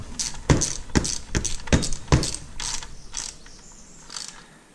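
A ratcheting wrench snugs up the bolts on a Yamaha water pump, giving a run of quick, close clicking bursts that taper off after a few seconds.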